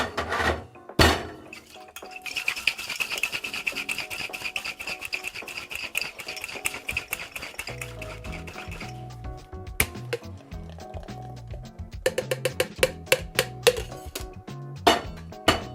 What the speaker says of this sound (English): Then we dry shake.